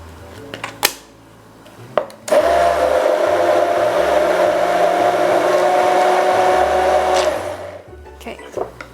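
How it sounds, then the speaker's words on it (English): A hand blender purées cut pandan leaves with a little water, a loud, steady motor whir lasting about five seconds, with clicks and handling knocks before and after. "And this time I'm going to use a hand blender."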